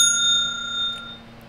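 A notification bell dings once with a bright metallic ring that hangs and fades gradually, heard alone.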